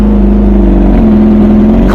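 An MV Agusta motorcycle fitted with an Aero race exhaust and race ECU, nearly a straight pipe, held at a loud, close, raspy rev that dips slightly midway and holds steady.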